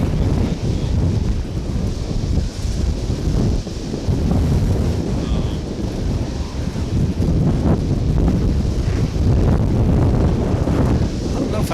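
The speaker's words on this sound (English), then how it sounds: "we're coming to you from a wind tunnel at DFW International Airport." Strong wind buffets the microphone outdoors at DFW International Airport, a loud continuous low roar with gusty surges throughout and no clear voices.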